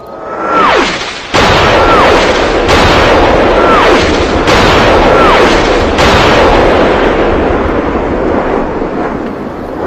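Artillery pounds an island in an audio drama: loud, close explosions roll in a dense barrage, several preceded by descending whistles of incoming shells, with a continuous rumble between blasts.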